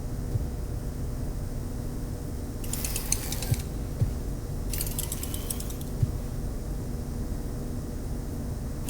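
An animatronic's metal endoskeleton in the video game Five Nights at Freddy's: Secret of the Mimic gives two short, bright mechanical whirring bursts over a steady low ambient hum.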